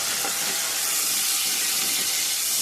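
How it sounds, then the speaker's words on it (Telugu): Tomatoes fry in hot oil for a dry mutton and gongura curry, giving a dense, continuous sizzle and hiss that holds loud and steady from start to finish, close up with no talking. "టమాటా కూడా నూనెలో బాగా యాగాలండి మెత్తగా అయిపోద్ది నూనెలో వేగితే"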